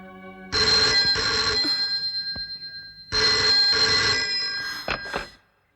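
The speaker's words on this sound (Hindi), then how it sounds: "हेलो हेलो, कमला का फोन है।" A telephone bell rings loudly in two long bursts of rapid trilling, separated by a short pause, followed by a few clipped tones at the end, with no talking over it.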